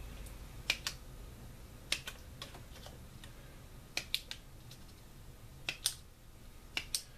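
Scissors snip paper in a series of sharp, crisp clicks, some in quick pairs, spaced irregularly against a quiet background.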